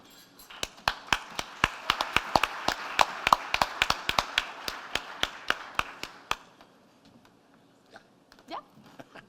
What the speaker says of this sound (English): So let's practice our applause starting now.